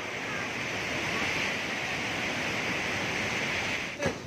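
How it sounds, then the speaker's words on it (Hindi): Steady broadband rush of a hidden waterfall heard up close, loud and continuous with some wind buffeting, ending with a brief bump near the end. "Secret waterfall."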